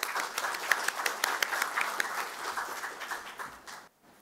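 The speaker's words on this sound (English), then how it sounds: "So can we please give a round of applause for Matt?" Audience applause at a neuroimaging conference educational course, a moderate room of people clapping steadily, then thinning and stopping abruptly near the end.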